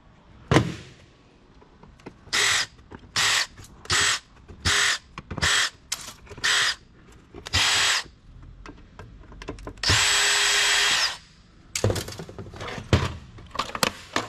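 A power drill unscrews screws from an old Hewlett Packard desktop PC being scrapped: about eight short whirring bursts in steady succession, one longer high whine, then scattered clicks and rattles, close and loud.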